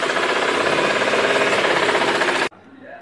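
A sewing machine stitches along the edge of a saree in a fast, even mechanical rattle for about two and a half seconds, then stops abruptly, leaving quiet room sound.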